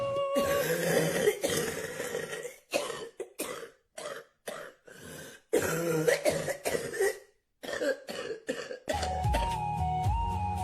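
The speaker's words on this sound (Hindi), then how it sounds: "मां की खांसी की आवाज ने खामोशी को तोड़ा" A mother coughs and clears her throat repeatedly, a close series of harsh, raspy bursts separated by short silences, with a faint tonal musical sound entering toward the end.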